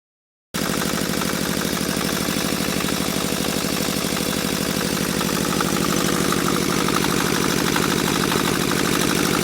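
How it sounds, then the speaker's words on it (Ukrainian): A small Zubr R180 diesel engine on a walk-behind tractor idles loudly and steadily after a brief silent start, with a rapid, even chugging rhythm and constant vibration, after repair from freeze damage. "На перший погляд можна сказати, що Мотоблок нормально працює, якщо не давати газу"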